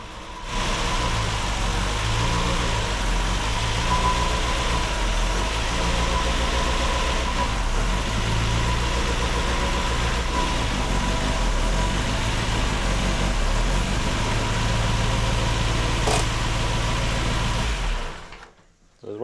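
The engine of a 1972 Saab Sonett III runs steadily in gear at a near, even drone for most of the stretch, with a brief voice partway through, before it quickly dies away at the end.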